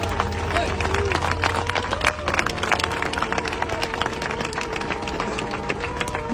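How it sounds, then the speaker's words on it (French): A seated assembly audience in a French parliamentary chamber claps together, a dense, sustained wash of applause with crowd murmur running loud and steady throughout. "Vous pouvez d'abord vous applaudir pour ça."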